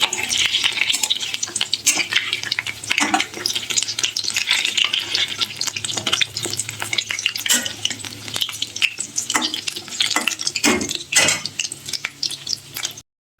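Lentil fritters (bora) fry in plenty of hot oil with a steady, close, loud sizzle, broken by occasional clinks and scrapes of a utensil against the pan, with no voices.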